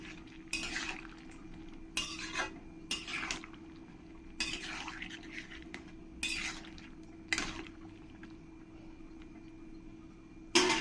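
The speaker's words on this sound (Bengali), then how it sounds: "দিয়ে ভালো করে একবার আমি নেড়ে দেবো" Ridge gourd and green peas stirred in a cooking pan, a metal spoon scraping and clinking against the pan in several separate bursts over a quiet background hum, with no talking.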